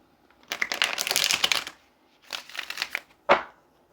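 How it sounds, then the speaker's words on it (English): Two bursts of crisp riffling as a deck of playing cards is shuffled, followed by a single sharp snap as the cards are squared up; close and fairly loud. "let's get one more shuffle"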